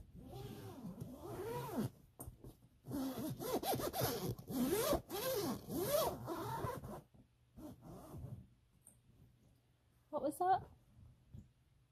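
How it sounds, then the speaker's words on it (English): A suitcase zipper rasps in a short, sharp burst near the end, following a long stretch of close vocal sounds and quiet pauses. "You just like the sound of my zippers so much in my suitcase"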